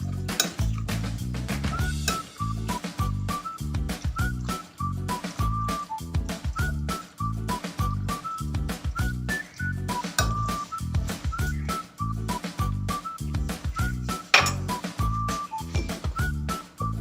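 Chana chaat ingredients get stirred together in a bowl, with repeated close clinks and scrapes of a spoon against the dish in a regular, quick rhythm and no talking.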